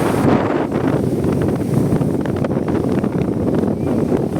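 Strong wind in the aftermath of a typhoon roars steadily against the microphone, a dense buffeting rush that never lets up, with a hint of water churning beneath it.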